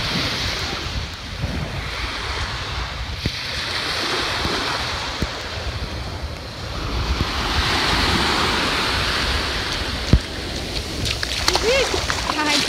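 Sea waves wash continuously onto the shore at Pajuçara beach, a steady broadband surf roar with gusts of wind noise on the microphone, heard close and fairly loud throughout.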